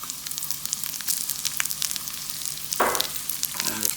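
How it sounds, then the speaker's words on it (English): Shallots added to browned carrots sizzle in butter in a pan, a steady close frying hiss with a louder burst of sizzling near the end as the shallots hit the fat. "I'm gonna add the shallots to the pan."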